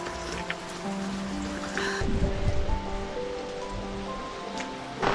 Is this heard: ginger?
no